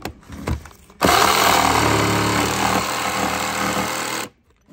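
A loud, steady power saw buzzes through a plastic Harley-Davidson saddlebag lid for a few seconds, starting abruptly after a quieter moment and cutting off sharply at the end.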